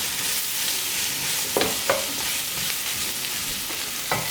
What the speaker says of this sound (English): Let that fry up a bit.